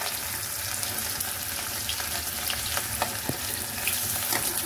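Onion and garlic frying in a hot pan, a steady close sizzle with occasional stirring scrapes and clinks.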